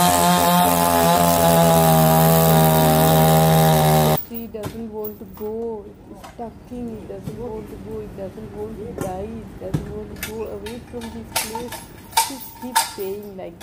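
Loud chainsaw running at high revs for about four seconds while a tree is cut down, then falling silent, followed by scattered knocks, clatter and people talking.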